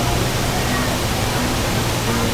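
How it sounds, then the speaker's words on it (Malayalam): Vattayi waterfall's flow swells in heavy rain, giving a loud, dense, unbroken rush of falling water close by with no pauses. "മഴ ശക്തി പ്രാപിച്ചുകൊണ്ട് ഒഴുക്ക് കൂടി വരികയാണ്"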